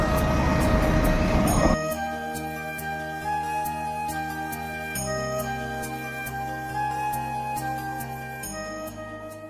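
A train rumbles steadily at Subrahmanya Road railway station in Karnataka, with a loud broadband roar at first settling into a sustained droning hum with tonal whine and rhythmic clatter.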